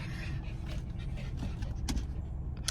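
Dogs inside a car whimper and whine in short, high cries over a steady low engine-like rumble, with some panting.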